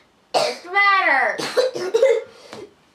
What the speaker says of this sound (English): Stop coughing on me!